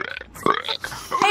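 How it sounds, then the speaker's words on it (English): A person burps on command: a short sequence of croaky, guttural belches, close and fairly loud, with uneven bursts and brief gaps between them. "I can burp on command"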